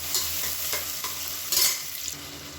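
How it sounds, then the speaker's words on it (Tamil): Chopped onions sauté in hot fat in a pan for ghee rice, a continuous bright sizzle with repeated scraping stirs and a louder burst of crackle midway, close and free of speech. "இப்போ 200 கிராம் அளவுக்கு வெங்காயம் கட் பண்ணி வச்சுக்கேன் சேர்த்துக்கலாம்."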